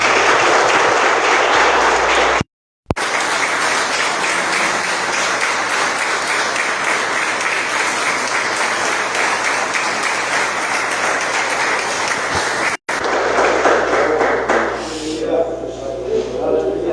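A church congregation applauds in sustained, dense clapping that fills the room, broken by a brief cut, then fading slightly as the clapping thins toward the end.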